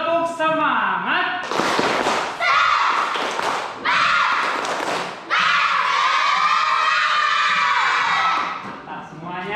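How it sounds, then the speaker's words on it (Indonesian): A school class performs the rhythmic 'tepuk semangat' spirit clap, loud group claps and thumps in patterned bursts alongside children chanting and shouting in unison. "Tepuk semangat."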